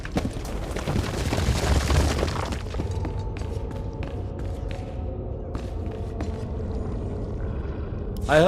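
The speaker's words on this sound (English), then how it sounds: "I heard the explosions when you set off the charges." Detonated charges in the video game SWTOR erupt in a heavy rumbling, shattering blast that fades into lingering debris and scattered clicks, loud at first then settling.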